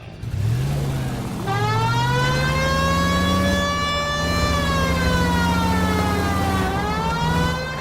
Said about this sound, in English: It's much more fun with the siren on, Phelps.